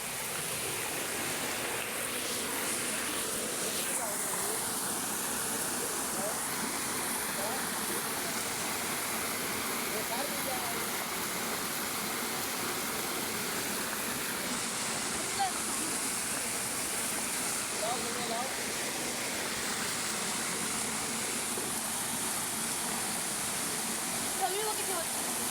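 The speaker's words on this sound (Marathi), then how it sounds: "आता परत आम्ही बंधाऱ्याच्या इकडे आलो" Water pours steadily over a small village check dam, a broad continuous rushing roar heard from nearby for the whole stretch, with faint voices now and then underneath.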